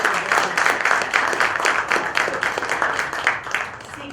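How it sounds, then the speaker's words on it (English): A group of workshop participants claps hands together loudly and in unison, a fast, even rhythm of sharp claps close by that keeps going and eases off slightly near the end. "Let's clap together."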